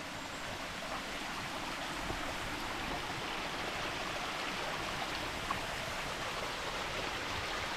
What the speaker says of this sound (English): Approaching a little waterfall right here.